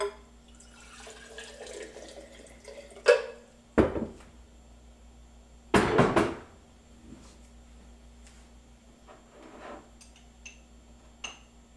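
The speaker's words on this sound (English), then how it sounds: "We're going to add some warm water." Warm water splashes and pours in a few short bursts into a cup, with small drips and clinks in between against a quiet room.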